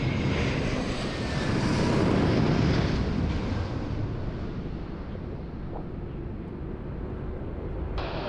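A QantasLink jet aircraft at Sydney Airport on a windy day, its engine roar loud and broad at first, then slowly fading as it moves away.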